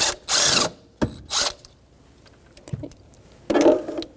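A ratchet with a 10mm socket loosens the ignition coil mounting bolt on a Jeep Renegade engine, giving several short bursts of close clicking separated by pauses.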